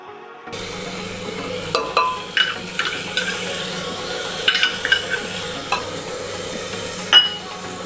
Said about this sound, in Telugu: ఆ రా స్మెల్ పోయే వరకు బాగా మిక్స్ చేసుకుందాము